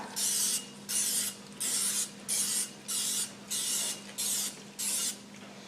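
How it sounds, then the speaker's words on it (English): Nonstick cooking spray sprayed into a muffin tin, eight even hissing bursts in a steady rhythm, each about half a second long, close and clear with no talking. "you take your nonstick spray, and you spray a little bit around each cup"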